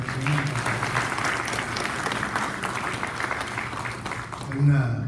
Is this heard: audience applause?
yes